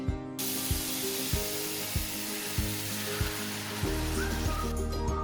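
Ivy gourd (kundru) sizzles in hot oil, a loud, dense hiss with periodic soft clatters and stirring knocks, continuing steadily and swelling slightly near the end.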